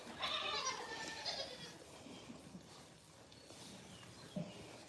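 A newborn baby goat bleats at a farm during kidding, with a few high, wavering cries up front and fainter rustling and shuffling after, fairly close but not loud.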